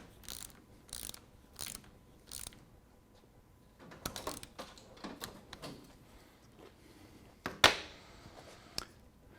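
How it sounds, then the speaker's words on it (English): A 10mm socket ratchet tightens a bolt on a Rock Shox fork with quiet, close bursts of clicking in short groups. One sharper metallic clack stands out near the end. "We're going to use a 10mm socket to do that. And we're going to tighten it to 70 inch-pounds."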